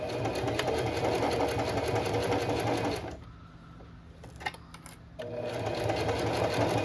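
A sewing machine back-stitches a fabric mug cozy, whirring steadily and close, pausing for about two seconds in the middle with a faint click before running again.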